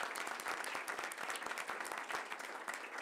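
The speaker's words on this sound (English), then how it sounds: "so we'd like to give him a round of applause" School board meeting audience applauding a teacher's tenure, a fairly faint crowd of individual claps with distinct sharp hits in an uneven rhythm.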